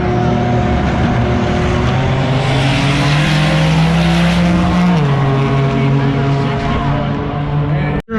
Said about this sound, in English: I see a Honda at a drag strip